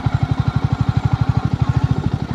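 A tube well pump runs close by, its engine thudding in a fast, steady, even beat over a continuous mechanical rumble.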